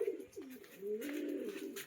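Pigeons cooing on a rooftop loft, a run of soft, low, rolling coos with a slight warble, close and moderately loud, with no talking.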